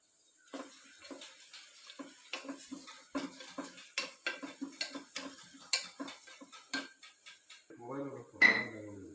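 Metal clinks and scrapes repeat in a steady rhythm as a utensil works around a pot, up close, with a brief louder knock near the end.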